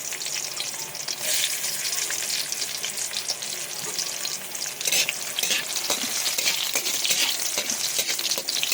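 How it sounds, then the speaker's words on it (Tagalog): Garlic sizzling and frying in a hot pan for igado, a steady bright crackle with occasional stirring scrapes, close and continuous with no talk. "Isa na natin pagluto ang bawang"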